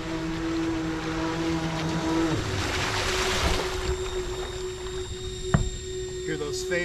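A large RC boat on the water gives off a steady high whine from its cooling fans, with a constant motor drone and splashing underneath and a voice talking along with it.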